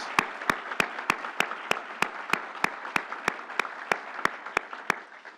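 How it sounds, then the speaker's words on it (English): Evenly spaced single claps ring out one after another, a slow steady rhythm of about three per second, in a hall where a governor is being welcomed at a state funding announcement. "Let's give our governor a big round of applause."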